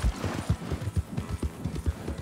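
Horse hooves clip-clop in a steady, even trot in Red Dead Redemption 2, the dull thuds repeating close and moderately loud with no talking.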